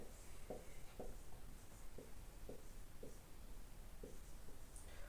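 Marker or chalk writing on a board during a classroom grammar lesson, heard as faint, soft scratchy strokes that repeat at a regular pace over a steady background hiss. No voices can be heard.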